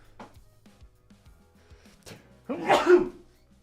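After a few soft clicks and thuds, a single sharp sneeze bursts out loudly near the microphone.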